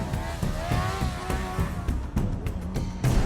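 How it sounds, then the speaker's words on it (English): A Formula 1 car spinning off the road at 190 mph, with a loud continuous engine roar, tire scrub and rattling bursts blending in a dense, sustained racing din. "Off the road, sending Mansell into a spin at 190 miles an hour."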